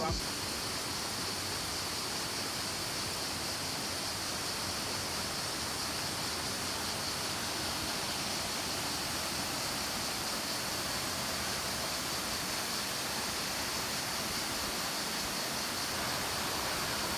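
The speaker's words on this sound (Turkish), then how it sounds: "Ama harika bir şelale ve altı gözükmüyor." A waterfall near Küçükkuyu, heard as a steady, dense roar of rushing water that holds unchanged from start to finish.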